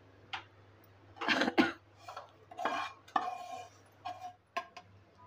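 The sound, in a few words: transferring roasted flour from pan into a plate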